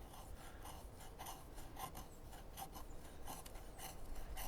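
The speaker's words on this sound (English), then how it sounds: "if you just want to get some really fine shavings, let's do a bunch of little fine shavings here" An OffGrid SideKick knife shaving fine curls from wood, with quiet rhythmic rasping scrapes repeating in quick short strokes, close and faint.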